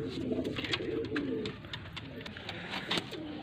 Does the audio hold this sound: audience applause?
no